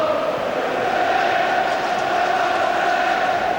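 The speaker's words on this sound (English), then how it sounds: "this is perhaps the most subdued Rangers crowd I've seen in many a long day" Subdued Rangers football crowd at the 1998 Scottish Cup Final against Hearts, a steady distant murmur of stadium noise with no distinct cheers, constant and moderately loud.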